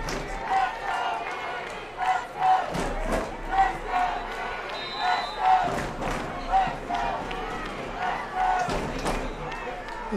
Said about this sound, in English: Parents are doing more cheering than the Mitty cheering section.